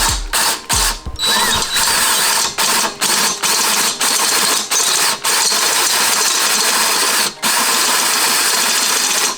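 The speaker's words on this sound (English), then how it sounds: "So I'm gonna go ahead and I'm gonna drill that out." Step drill bit cutting through tough material inside a C5 Corvette, a close, gritty grinding broken by repeated short pauses as the drill stops and restarts.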